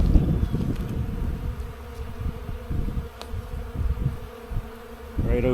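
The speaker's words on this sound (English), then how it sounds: "Oh, there's bees in there again." A group of honeybees buzzes at a hive during a spring inspection, a dense close hum with intermittent bursts and louder swells, with brief handling noises and no talking.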